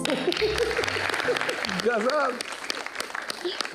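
Audience applause from a seated crowd at an exam-focus event with artists, a loud burst of clapping mixed with voices, then fading under a speaking voice.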